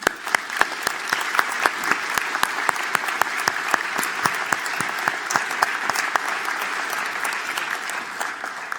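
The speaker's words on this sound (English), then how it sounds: "Let's give these special people a round of applause." A graduation audience at a university engineering commencement claps steadily in a dense, sustained round of applause, many individual hand claps standing out close by above the crowd's continuous patter.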